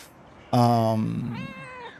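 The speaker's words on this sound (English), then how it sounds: "Cute little kitty." A cat meows in the video game Pentiment, a loud, close, drawn-out call followed by a second, higher rising meow, heard alone.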